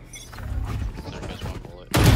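Gunfire in the Valorant video game, a dense burst of shots and thuds under excited player talk, ending in a loud close blast.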